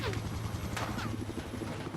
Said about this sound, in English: Helicopter fighting.